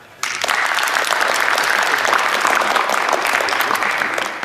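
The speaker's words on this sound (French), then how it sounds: "Je pense qu'on peut les applaudir." A crowd at a youth football tournament awards ceremony breaks into loud applause, starting abruptly and holding a thick, even wash of clapping that tapers only slightly at the end.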